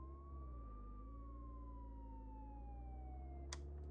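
A police siren in the video game Contraband Police, one long wailing tone that slowly rises and falls over a steady low engine drone, with a short click near the end.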